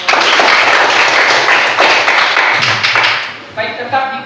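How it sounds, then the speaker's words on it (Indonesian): A classroom of students claps together in a burst of close, dense applause that fades into a few scattered claps and a voice at the end. "berikan aplaus untuk kita semua"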